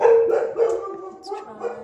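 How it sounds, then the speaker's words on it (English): A dog gives a few short, close barks and yelps in an indoor room, uneven in rhythm and moderately loud, then trails off into a faint whine. "Oh, this dog."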